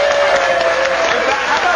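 A studio audience at a live TV tech show breaks into steady, dense applause, loud and continuous throughout with no pauses.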